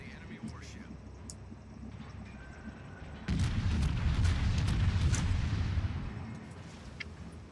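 Naval guns firing in the World of Warships video game, from a heavy cruiser Atago battle: a sudden loud broadband boom about midway that rolls into a sustained rumbling roar, following a quieter stretch of game ambience.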